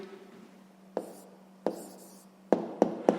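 A pen writes down the answer to a sixth-grade maths exercise, with several short, sharp scratching strokes on paper, the last three close together, over a faint steady hum.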